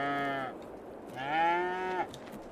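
Two long, loud cattle moos from a farm in Farming Simulator 22, the first lasting about half a second and the second longer and swelling, heard alone with no talk.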